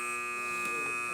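A steady electronic quiz buzzer sounds continuously for about a second, loud and even, at a high school quiz match.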